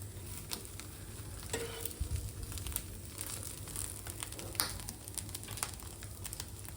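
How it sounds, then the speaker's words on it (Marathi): Bread rolls toast in a hot pan, giving a faint, steady sizzle with soft crackles and occasional scraping taps, close and quiet, with no talking. "मी दोन्ही साईडने सुद्धा पाव शेकून घेणार आहेत"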